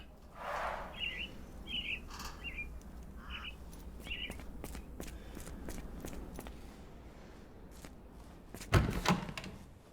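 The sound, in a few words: caged mynah birds singing, from a video game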